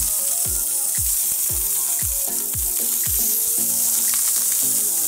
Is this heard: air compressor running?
no